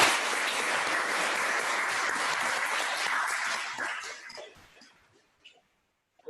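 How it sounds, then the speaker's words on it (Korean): A church congregation applauds in welcome during a Sunday service, a steady wash of many hands clapping for about four seconds before it thins out and stops, leaving near silence with a faint stray sound at the end. "우리 주변에 계신 분들을 박수로 환영하도록 하겠습니다"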